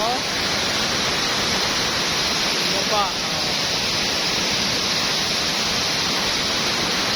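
Aliwagwag Falls pours in a loud, constant, broadband rush of falling water that fills the whole scene, with a voice speaking briefly over it.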